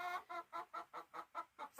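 Chickens give a rapid, regular run of about eight short clucks, close and fairly quiet, with nothing else over them.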